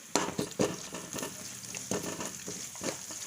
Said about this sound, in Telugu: ఇది ఒక వన్ మినిట్ ఫ్రై కానివ్వాలి